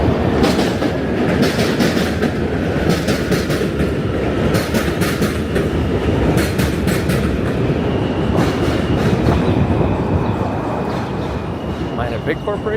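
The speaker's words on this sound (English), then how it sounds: "Another train." A train rumbles past near the Williamsburg Bridge between Brooklyn and Manhattan, loud and continuous with rhythmic clattering of wheels over the rails throughout.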